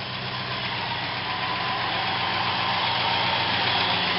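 A 1958 Plymouth Belvedere engine idles steadily at close range, a continuous low rumble with a faint rhythmic knock, no voices.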